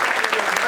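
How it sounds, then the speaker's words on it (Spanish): A church congregation breaks into dense applause with an even wash of many hands clapping, and voices are heard through the clapping. "Denle un aplauso a Dios por esa gente"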